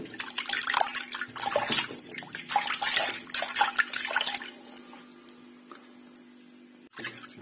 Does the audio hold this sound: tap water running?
yes